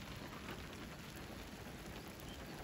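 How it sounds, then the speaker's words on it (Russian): A heavy downpour in the Kaliningrad region pours down as a dense, constant rushing hiss of rain, steady and unbroken, with no voices. "Просто ливень невероятный."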